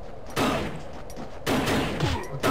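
Two bursts of rapid gunfire ring out close by in the PS1 video game Fighting Force, each a quick volley of shots, with a quieter pause between them.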